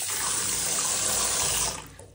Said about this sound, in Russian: Набор воды тоже нормальный.